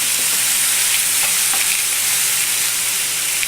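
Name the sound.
sautéing in canola oil in a pan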